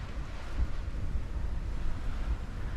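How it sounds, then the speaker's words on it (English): Steady wind buffets a microphone outdoors near the Little Colorado River Gorge, a dense low rumble with gusts swelling and easing throughout, loud and close with no voices. "It's pretty windy out there, that's for sure."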